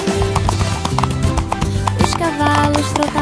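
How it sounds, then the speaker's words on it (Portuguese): Horses trot side by side on a farm, hooves clip-clopping in a steady beat beneath continuous children's-song music, with a brief whinny mixed in. "os cavalos trotavam lado a lado."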